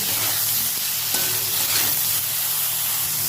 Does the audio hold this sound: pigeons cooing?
no